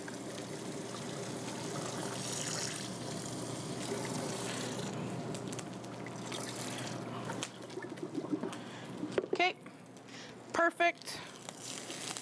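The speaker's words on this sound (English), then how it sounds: "Make sure to use nice cold water" Cold tap water runs in a steady hiss for rinsing rice, close and continuous, giving way near the end to a few short clatters and splashes.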